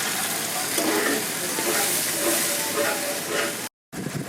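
Water poured into a hot pan while making chilli mushroom, giving a steady, loud hissing sizzle for about three and a half seconds, then a brief cut before the hiss resumes.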